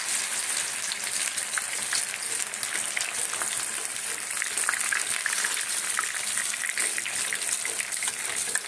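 Meat chops fry in oil over low heat, a steady close sizzle and hiss running throughout with no pauses or voices.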